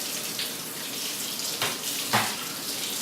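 A plastic part of a tabletop spiral vegetable slicer is rinsed under a running kitchen tap, with a steady hiss of water and a couple of brief splashing surges as the part passes through the stream.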